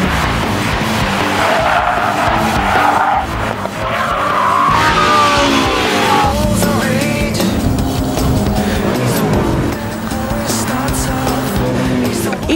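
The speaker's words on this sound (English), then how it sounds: "Even Kazunori in the awesome Mitsubishi Evo 8 with permanent four-wheel drive finds a slalom can catch him out." Mitsubishi Evo 8 with permanent four-wheel drive in Gran Turismo 4, skidding through a slalom: loud, continuous tire squeal and skidding over a revving engine, rising and falling as the car swings back and forth, close and sustained throughout.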